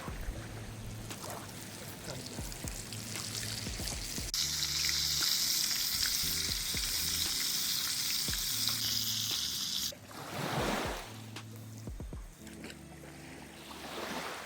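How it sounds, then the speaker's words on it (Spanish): A fish sizzles in hot oil over a windy riverside campfire, a loud hiss bursting up when it hits the pan and steadily crackling for several seconds, with handling clatter and outdoor noise around it. "Y ahí ya me parece que ya está el aceite. Tirando el pez."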